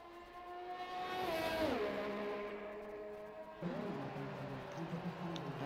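Formula 1 race cars roar through the Japan Grand Prix circuit in a video game, engine pitch sweeping down as the cars brake into corners, then rising again, a steady loud drone with layered harmonics.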